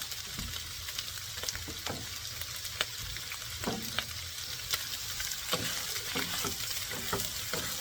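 Noodles stir-fry in oil with ginger, garlic and chili, giving a loud, continuous sizzle broken by sharp scrapes and tosses of the utensil against the pan.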